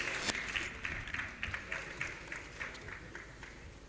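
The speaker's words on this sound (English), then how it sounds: "Please, a round of applause for them." A conference audience at a hotel event on the extractives sector applauds, a faint, distant wash of many clapping hands with a scattered rhythmic patter, steady for several seconds in a large room.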